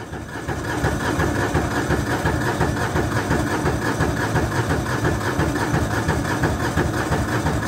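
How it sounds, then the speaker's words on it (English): Landmaster LM650 utility vehicle engine turning over on a frigid cold start at about minus seven degrees, a dense, continuous churning rumble that holds steady and loud from start to end, with no voices. "Give her a second. He's cranking, that's a good sign."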